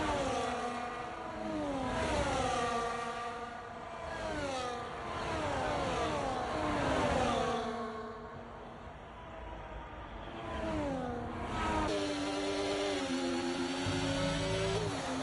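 Formula 1 race cars from McLaren and Sauber in a video game, racing in Austria, their engines revving up and down in repeated rising and falling pitch sweeps as cars accelerate, shift and pass, loud and continuous.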